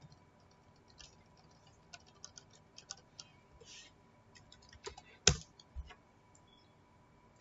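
Typing on a computer keyboard produces scattered, quiet key clicks in short irregular bursts, ending in a sharper tap cluster, close by in an otherwise quiet room.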